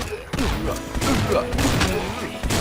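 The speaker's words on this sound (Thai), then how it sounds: "ช็อตกันนี่ยิงกระจายดีมากนะเพื่อ" Shotgun blasts in the mobile game Swamp Attack, dense booming fire in the swamp level with someone talking excitedly over it and game music underneath.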